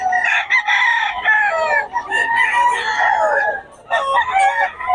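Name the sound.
roosters (fighting cocks) at a seller's pen in Bocaue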